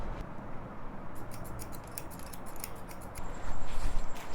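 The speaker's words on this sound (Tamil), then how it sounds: "ஸோ இப்போ ஃப்ரண்ட்டில் மட்டும் லைட்டாக கட் பண்ணிட்டா வேலை முடிஞ்சுது." Scissors snip lightly at the front of a person's hair during a haircut, a quick series of small crisp cuts over a quiet room background, getting slightly busier toward the end.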